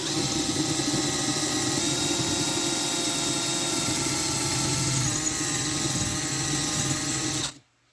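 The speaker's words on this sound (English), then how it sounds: "take a drill bit and drill out the rust, the spring, everything at once" A drill bit grinding out rust and a broken spring during a Honda CT70 restoration, a steady whining drill tone held for several seconds before cutting off abruptly near the end, alone without speech.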